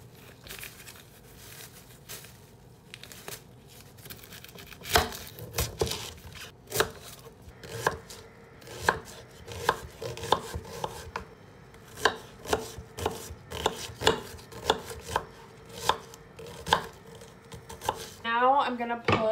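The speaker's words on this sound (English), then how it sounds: "Next, I'm going to chop up some onion to put in there," Half an onion is chopped with a knife on a board, a run of sharp, fairly even cuts heard close up, starting sparse and quickening into a steady rhythm.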